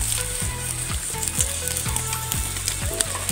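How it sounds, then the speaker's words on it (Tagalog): Eels and catfish grilling outdoors give off a continuous crackling sizzle, with fat popping in quick rhythmic bursts close to the microphone and no talking. "Malapit na idol maluto itong ating iniihaw"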